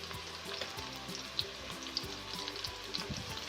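Garlic and ginger paste sizzle in a pan with light-brown fried onions, a steady close crackle of frying with scattered sharper pops and spits throughout.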